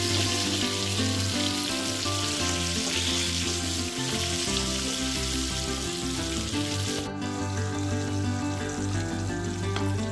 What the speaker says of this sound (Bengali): গ্যাসটাকে একেবারে লো ফ্লেমে রেখে পটলগুলোকে হালকা হালকা করে ভেজে নিচ্ছি